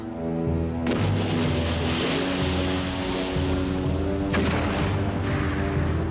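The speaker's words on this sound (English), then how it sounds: "her cannon belched fire into the French flagship" Naval cannon fire in a close-range sea battle between wooden warships, deep booming blasts over a dense continuous rumble, with two sharp broadband cracks, loud and near, no voices.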